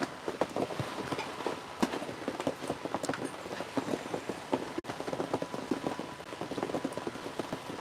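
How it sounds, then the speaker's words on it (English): Steady rain patters on a hot tent at a rainy campsite, dense irregular drops tapping the fabric throughout, close and fairly loud, with no voices. "As you can hear the rain in the background."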